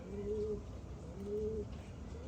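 Soft, low pigeon coos repeat twice in slow phrases, close by, over a steady murmur of background noise.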